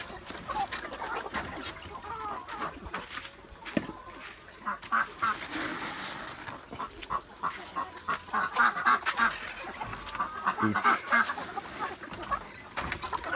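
Chickens on a poultry farm cluck and squawk continuously at close range, a busy flock with overlapping calls and bursts of louder activity throughout.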